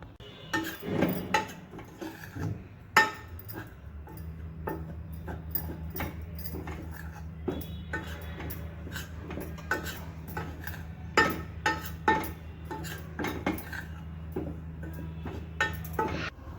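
Ragi and jowar flour roasting in ghee, stirred in a metal pan on low heat: scattered close clinks and scrapes over a steady low hum, with no one speaking.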